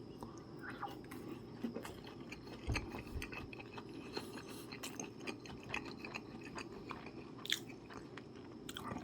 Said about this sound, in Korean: 김 좀 쳐갖고 한 입 먹어보겠습니다